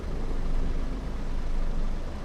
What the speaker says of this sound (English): it's idling. Throttle is idling.